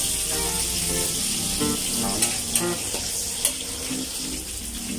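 Onion frying in a pan for pancit bihon, a steady moderate sizzle with a few scraping clatters of a spoon midway.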